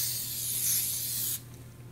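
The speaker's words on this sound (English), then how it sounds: "Spray it one more time." A steady hissing spray from a bottle onto a floppy hat, lasting over a second before cutting off abruptly, leaving quiet room tone with a faint low hum.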